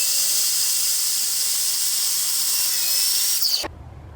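Cutting about an inch off a plastic elbow fitting from a chicken feeder pipe, a loud steady hissing, grinding cut that runs continuously for several seconds and then stops abruptly, leaving a quiet background.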